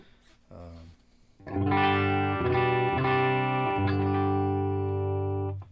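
Clean channel of a 100-watt Marshall Plexi amp with electric guitar: a few quiet notes, then a loud sustained chord with warm, slightly crunchy Plexi tone, ringing out and changing a couple of times.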